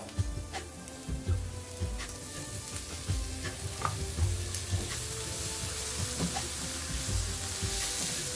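Onion and tomato sizzle and fry in a pan, a steady close crackle with occasional stirring scrapes and clicks running throughout.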